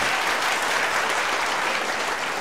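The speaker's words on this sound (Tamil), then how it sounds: "நாம் கைத்தட்டி மகிழ்ந்து வாழ்த்துச் சொல்ல வேண்டும்" An auditorium crowd at a doctor's health talk applauds, a loud, thick wash of many hands clapping at once, steady and unbroken throughout.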